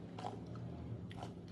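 Faint, close crunching of someone biting into crisp dried banana chips: two quick brittle bites about a second apart, with soft chewing in between and no talking.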